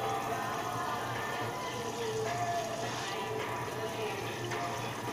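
Cooked pasta is rinsed under a running kitchen tap, giving a steady, close gush of water splashing into a sink throughout.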